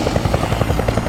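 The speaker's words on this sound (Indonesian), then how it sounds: "tampak helikopter dengan muatan penuh air menuju kepulan asap" A helicopter carrying a full load of water heads toward wildfire smoke, its rotor chopping in a fast, even pulse at close to mid range.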